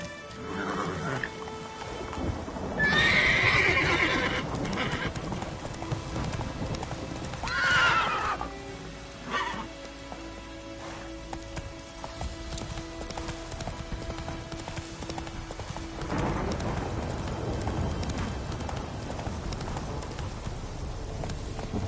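Horse hooves clip-clop at a steady galloping rhythm in The Witcher 3: Wild Hunt, joined by a couple of loud neighs and whinnies over faint ambient noise and music.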